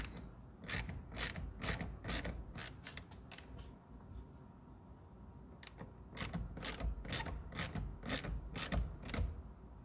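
A ratchet snugs up the mirror bolts on a 2008 Dodge Caliber, with quiet bursts of rapid pawl clicks in two runs separated by a brief pause, close by.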